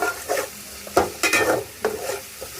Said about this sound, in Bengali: হলুদের গুঁড়া এখন দিয়ে আমি ভালো করে তেলের সাথে কষিয়ে দিচ্ছি